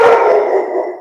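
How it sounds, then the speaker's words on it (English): A dog gives a single drawn-out howling bark, loud and close, trailing off over about a second with no talk over it. "You know, that's my dog."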